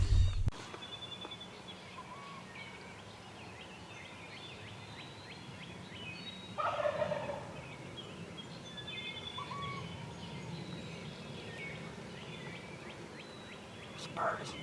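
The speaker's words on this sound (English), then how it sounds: "This bird is roosted about 60 yards to my right." Wild turkey gobbling from its roost about 60 yards away in New York woods during a hunt, two brief distant gobbling bursts rising over quiet birdsong and a hushed background.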